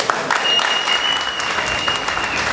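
Loud, sustained applause from an audience at a boxing event, steady dense clapping filling the whole stretch with no pauses.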